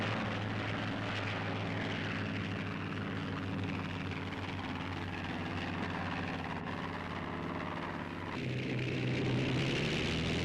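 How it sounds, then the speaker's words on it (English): Propeller fighter planes on an aircraft carrier flight deck, engines droning loud and steady as they prepare for takeoff, with the pitch shifting near the end; no talk. "Wheeled to the flight deck, the speedy fighters are ready for the takeoff."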